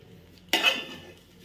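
Fried vegetables being stirred into rice and lentils in a pot for khichuri, one sharp scrape and clatter of a spoon against the pot that fades quickly, close and alone.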